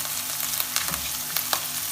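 Crushed ginger sautés in a hot pan, a steady close sizzle with faint stirring scrapes, no voices.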